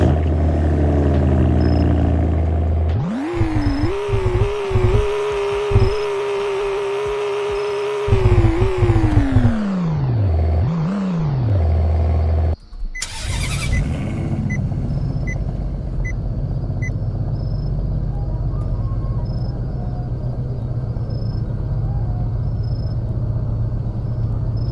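Car engines in the Greenville driving game, a BMW 3 Series among them, rev up loudly and steadily, dropping back in pitch, followed by a sharp burst and then a lower constant engine hum with no talk.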